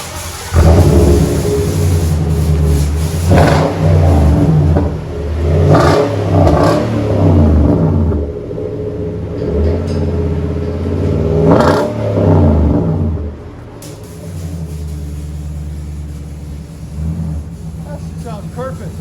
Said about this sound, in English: 2011 Titan 4x4 Flex Fuel. Flowmaster dual in, single out, Super 10.